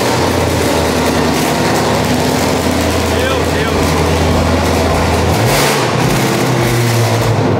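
A Ford Mustang's engine runs loud and close, rumbling and then revving with rising pitch shifts, while people talk over it.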